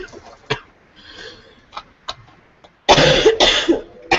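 A few faint clicks and soft breaths, then two harsh, loud coughs in quick succession close to the microphone.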